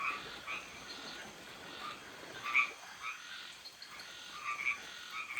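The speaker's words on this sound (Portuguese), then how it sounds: "Hoje o nosso silêncio vai ter uma serenata de sapos." A chorus of frogs croaks outdoors in irregular overlapping calls, some nearer and louder, others faint in the background, with no voices.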